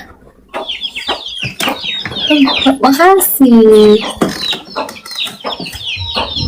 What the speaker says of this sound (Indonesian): Nah lo udah ada ayam.